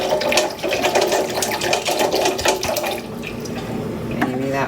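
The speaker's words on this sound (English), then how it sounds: "If I add some more water to the bowl to make sure that it is easy to dunk the can in." Water is poured and splashed into a bowl of water, a close, fairly loud gurgling pour with sloshing that fades near the end.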